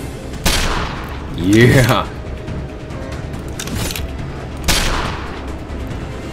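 Two sharp gunshots in the mobile game Contract Killer 2, well separated and moderately loud, with a voice briefly speaking between them.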